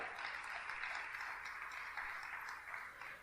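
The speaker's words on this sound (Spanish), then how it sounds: "¿Cuántos le pueden dar un fuerte aplauso al Señor?" Congregation clapping for the Lord at a Spanish-language church service, a steady, fairly quiet wash of applause that holds evenly from start to finish.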